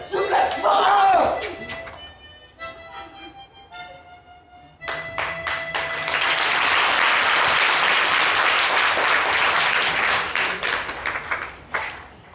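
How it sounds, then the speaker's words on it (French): Crowd applause and cheering at a live Allahou Akbar television show finale swell in after a quieter stretch with tones, growing loud and dense with voices mixed in. "On va encore les applaudir"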